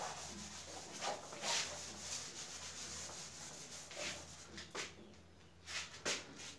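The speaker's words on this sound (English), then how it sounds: "Now I am rubbing this question part because there is no space to calculate and show you." An eraser or duster rubs written work off a board during an economics lesson, making faint, close scrubbing strokes in uneven bursts with short pauses, no talking.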